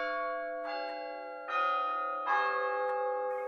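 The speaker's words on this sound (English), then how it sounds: "the bell was again upon the stroke of 1." A church bell tolls the stroke of one, a single deep strike whose rich harmonic ring swells and hangs on, alone and fairly near with no talk.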